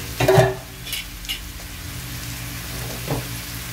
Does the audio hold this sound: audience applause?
no